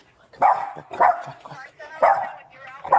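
A dog barks in repeated sharp bursts close by, roughly every half second to second, with a person talking briefly at the edge of the noise during a police call at a home.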